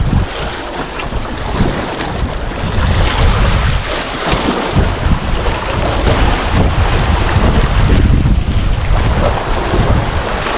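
Strong northeast monsoon wind blows at sea, a loud, continuous roar buffeting the microphone over churning waves and the rumble of a boat, with no voices.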